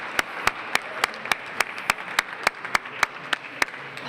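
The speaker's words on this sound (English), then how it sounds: "So give yourselves a big round of applause" A crowd applauds at a public meeting about a community solar program in Simsbury, with one sharp, evenly spaced clap standing out near the microphone above softer, continuous clapping from the room.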